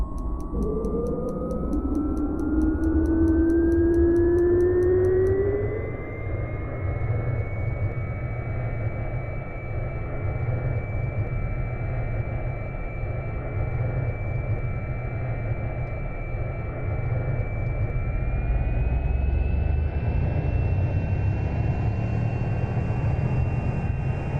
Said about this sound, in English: there's a complete engine start. It sounds absolutely amazing